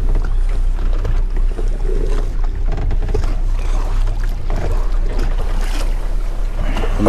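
Boat running on a single outboard motor offshore in Texas while swordfishing, a loud steady low engine drone mixed with wind and water rush, close and continuous with no talk.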